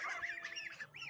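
Geese in a farmyard give several quick, nasal, faint squawks and honks in a brief burst.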